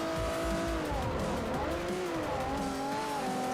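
A race car engine in the Forza Motorsport 4 video game holds a steady, loud tone with wavering pitch as it runs through corners, with tire squeal mixed in.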